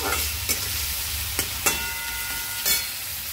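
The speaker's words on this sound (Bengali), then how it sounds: "কড়াই তেল দিয়ে দিয়েছি, চিংড়ি মাছটাকে আগে ভেজে তুলে নিই।" Prawns fry in oil in a wok with a steady, close hiss of sizzling, broken by a few sharp clicks and scrapes of stirring.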